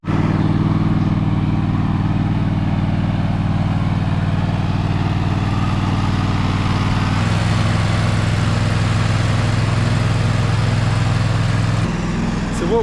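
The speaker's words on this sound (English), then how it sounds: "we got a mower that has a mulching deck on it" A lawn mower with a mulching deck runs continuously, its engine droning loud and close with a steady, rough hum that barely changes throughout, easing slightly near the end.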